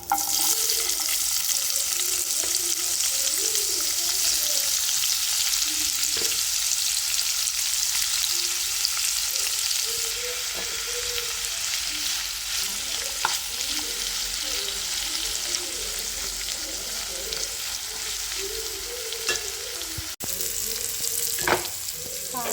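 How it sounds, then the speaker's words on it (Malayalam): Bitter gourd pieces deep frying in oil, a constant loud bubbling sizzle with popping crackles throughout, no voices. "നമുക്ക് വറുത്തെടുക്കാം"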